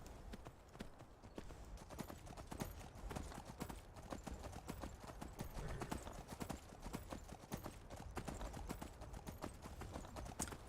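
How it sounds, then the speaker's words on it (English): Horse hooves clip-clop steadily across the ground in Skyrim, a continuous, fairly faint rhythmic trotting that runs throughout. "Horse gets summoned from the Shadow Realm."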